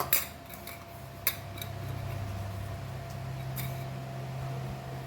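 A spoon stirs Goan mixed bhaji vegetables with hing powder and salt, zero-oil style, giving a few sharp metallic clinks at the start over a faint steady background hum, with no talking.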